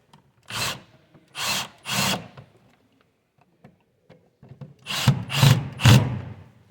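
A cordless drill drives the top screw of a GFCI outlet into its box in three short whirring bursts, a pause, then three more louder bursts close by, with no talking.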